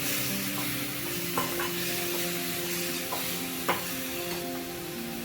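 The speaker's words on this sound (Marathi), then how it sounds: "आता आपण याच्यात दूध टाकून घेऊया आणि दूध टाकल्यावर पूर्ण मिक्स करून घ्यायचं आहे" Carrot halwa with milk being stirred in a pan: a steady simmering hiss beneath a low hum, punctuated by a few spoon scrapes and knocks against the metal.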